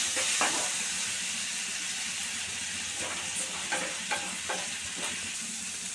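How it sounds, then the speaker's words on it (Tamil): Ginger garlic paste fries in an oily pan with a bright, steady sizzle, while a spoon stirs it in several distinct scraping strokes close by. "இப்போ இதில் இஞ்சி பூண்டு விழுது சேர்த்துருவோம் கொஞ்சம் நல்லா வதங்கட்டுங்க"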